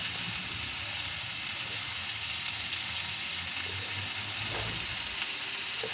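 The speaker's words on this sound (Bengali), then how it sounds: "তেজপাতাটা একটু পুড়িয়ে নেবেন" Bay leaf and whole spices frying in hot oil for moong dal, a steady close crackling sizzle with faint stirring, constant in level throughout.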